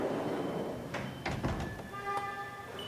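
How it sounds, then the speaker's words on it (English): Sliding doors on a Haas CNC machine close with a few rolling, clattering thumps and a short metallic ring, heard over a steady shop hum. "close the doors, and press cycle start"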